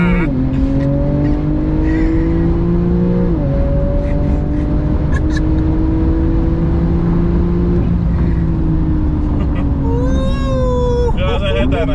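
An 800 hp Audi S2 and a 630 hp Porsche 911 Turbo S launch side by side in a drag race, engines roaring loudly and continuously with rising, shifting revs and gear changes.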